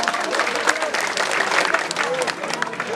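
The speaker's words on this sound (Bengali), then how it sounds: "সবাই করতালি দিতে হবে।" An audience claps steadily through a dense burst of applause at the opening ceremony of a political party's local conference, with a few voices in the crowd underneath.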